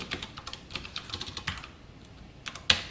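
Python code being typed on a computer keyboard, quick irregular clicks of keys close up and fairly faint, with a brief pause and a louder final keystroke.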